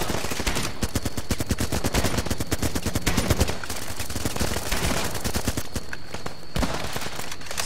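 Rapid automatic gunfire from the Running With Rifles video game, loud and nearly continuous bursts of shots rattling through the whole stretch without pause.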